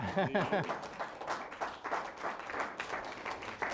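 Scattered applause from an audience at a college conservation event, rising after an opening burst of voices and continuing as a steady patter of claps of moderate loudness.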